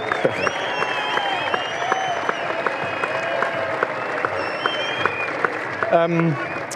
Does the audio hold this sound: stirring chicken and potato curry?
no